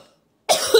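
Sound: coughing

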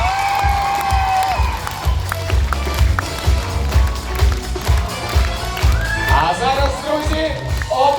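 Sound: audience applause for the students

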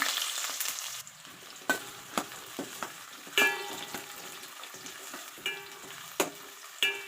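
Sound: tempering of cumin, fenugreek and chillies frying in oil

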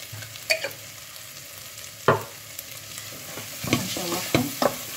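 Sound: cloves sautéing in oil for basmati rice

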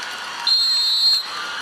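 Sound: referee whistle at a basketball game

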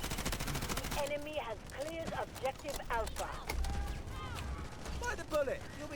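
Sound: gunfire in video game Delta Force

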